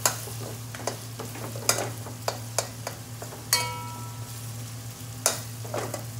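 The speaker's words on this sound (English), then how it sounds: "Give that a nice mix" Garlic, ginger and onions sizzle steadily in a pan for a lamb chop curry while a utensil stirs through them, giving a series of sharp scrapes and knocks over the constant frying hiss.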